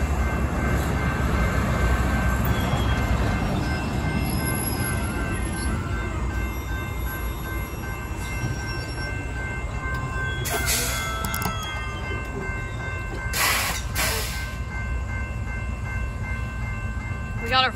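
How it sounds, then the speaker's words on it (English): A freight train passes close by a railroad crossing with a continuous heavy rumble and rattle of wagons, ringing crossing bells, and brief high wheel squeals along the way. "Got our first freight of the day."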